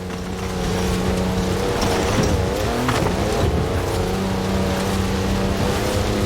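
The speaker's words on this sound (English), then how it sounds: "That's a four-wheel drive car on mud tyres completely sideways." A four-wheel drive car on mud tyres slides sideways in Forza Horizon 4, its engine roaring loud and steady with shifting pitch and tyre scrubbing throughout.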